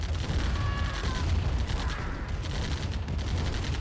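Rapid bursts of gunfire rattle at buggies in Command & Conquer Remastered, a dense crackling fusillade over a low rumble, fairly loud and continuous.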